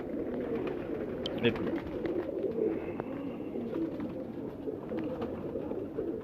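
Pigeons in a fancier's loft keep up a low, continuous cooing close by, with a voice talking over it.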